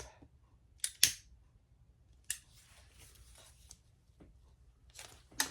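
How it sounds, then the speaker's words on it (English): Quiet scissor snips cutting zipper tape, a few sharp crisp cuts spaced apart with soft rustling between them, close up. "I'm going to cut my piece of zipper tape"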